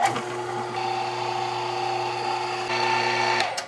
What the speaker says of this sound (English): now we're gonna continue the grinding process